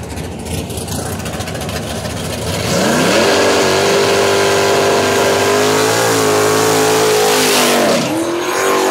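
Drag racing cars at a no-prep event, an LS turbo car against a small block nitrous Trans Am, engines idling then roaring up loudly as they launch and accelerate, rising pitch sweeping upward.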